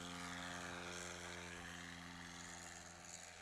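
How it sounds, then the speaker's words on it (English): A bush-class STOL airplane takes off at a short-takeoff event, its propeller engine droning steady and loud at full throttle with a strong, even hum. "Gets on that throttle. Gets his tail up."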